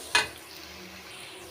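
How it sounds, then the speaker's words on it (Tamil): Ground paste for lentil dumplings in a buttermilk curry being sautéed in a pan, a single sharp sizzle as it hits the hot oil, then a soft steady frying hiss. "அந்த விழுதை நல்லா பச்சை வாசனை போகிற வரைக்கும் நல்லா வதக்கிக்கிறலாங்க."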